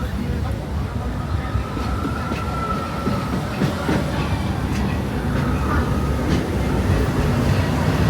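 A Disneyland Railroad train rumbles steadily along the tracks with faint rhythmic clatter and a brief squeal, under a low murmur of voices.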